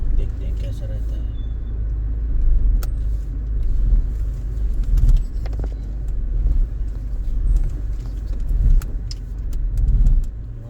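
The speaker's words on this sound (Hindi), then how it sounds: "आज ट्रैफिक थोड़ा कम दिखा रहा है, इसलिए कार से जा रहे हैं।" A car driving through city traffic in Whitefield, Bangalore, heard from inside as a steady low engine and road rumble with passing vehicle noise and occasional clicks, under intermittent talking.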